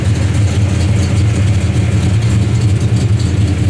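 A 1970 Dodge Dart Swinger engine runs steadily at a low, throaty idle, loud and close, with a constant rumble and no voices.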